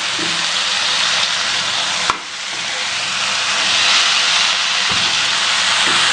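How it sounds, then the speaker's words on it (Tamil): Cut brinjal (eggplant) being stir-fried for poriyal in a pan with softened tomato, giving a steady loud sizzle with a brief sharp clatter of stirring partway through, and no talking. "நல்லா வதக்குங்க."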